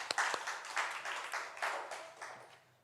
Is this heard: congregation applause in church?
yes